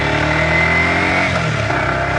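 Yamaha YZF-R125, a 125cc motorcycle with variable valve actuation, pulling away from a stop, its engine note rising steadily as it accelerates, close and loud with no talk.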